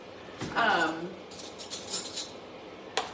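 A utensil scrapes and clinks against a bowl as Brussels sprouts are tossed with olive oil, with short metallic rattles and a faint voice underneath.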